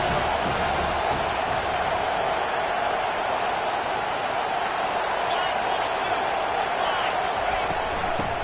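A stadium crowd in a football video game roars steadily, a dense wash of cheering and noise that holds for several seconds without pause.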